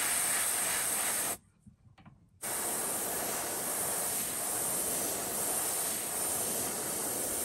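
A loud, steady airbrush hiss sprays ink close by onto a foam fishing lure, cuts off for about a second, then resumes and runs continuously to the end.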